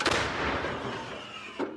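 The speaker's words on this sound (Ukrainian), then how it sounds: "Так виглядає вогнева робота з гаубиці натівського зразка після команди до бою" A single loud, booming shot from a NATO-type howitzer cracks out and rolls away with a long rumbling echo, followed by a brief sharper thump near the end.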